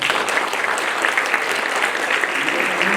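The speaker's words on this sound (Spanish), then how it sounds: "fuertes aplausos para él" Audience applause at a book presentation, given for an Argentine embassy representative; steady, dense clapping from a roomful of people that holds evenly for the whole stretch.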